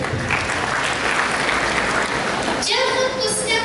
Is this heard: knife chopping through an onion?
no